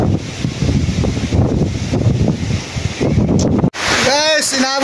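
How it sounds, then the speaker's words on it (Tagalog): Strong wind buffeting the microphone by a river, a loud, rumbling roar that gusts unevenly, with a voice speaking near the end. "Ang lakas ng hangin guys"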